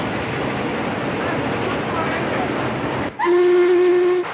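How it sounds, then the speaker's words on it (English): Steam locomotive hauling a merchandise freight train over heavy grade districts between Roanoke and Williamston: a long stretch of loud, steady rumbling rail noise, then a sustained multi-tone steam whistle blast near the end. "The merchandise freight train from Roanoke to Williamston, a distance of 200 miles over 2 heavy grade districts."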